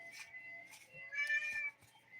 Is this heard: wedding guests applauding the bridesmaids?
no